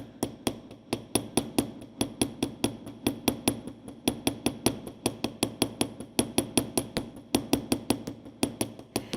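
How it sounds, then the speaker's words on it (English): A square texturing hammer strikes metal over and over in a quick, steady rhythm, each tap sharp and ringing, close by with no talking. "I'm going to show you how to use this square hammer"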